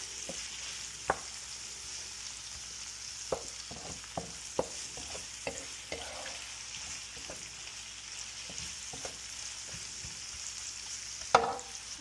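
Onions sizzle in a hot pan while crab is being cooked, a steady hiss of frying with scattered pops and the occasional scrape of a spatula.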